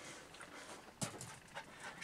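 A dog pants softly with faint whimpers in a quiet room, one brief sharper sound near the middle, no one speaking.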